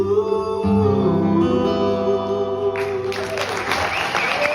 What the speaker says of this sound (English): he plays it. They clap.